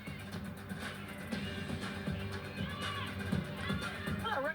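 Record crowd of over 2,000 at Cowgirl Stadium for a Texas vs Oklahoma State college softball game, a faint steady murmur with scattered voices and cheers under a commentator's talk.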